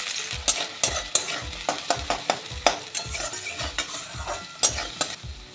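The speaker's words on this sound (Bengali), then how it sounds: "আমি এর মধ্যে আরও একটা পেঁয়াজ ভেজে নিচ্ছি" Onion sizzles in hot mustard oil while a utensil scrapes and stirs the pan in steady, repeated strokes, no voices.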